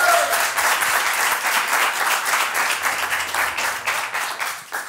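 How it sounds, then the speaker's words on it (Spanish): Studio audience applause on a Spanish talk show, dense steady clapping that fades slightly toward the end. "tenemos ahí un aplauso, por favor"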